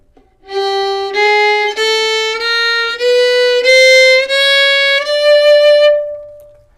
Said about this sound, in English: That is chromatic. Meaning when you play all the notes